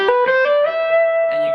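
Electric guitar plays a major 9 lick, a quick run of clean, sustained picked notes ringing into one long held tone, with effects adding shimmer; close and alone, no talking.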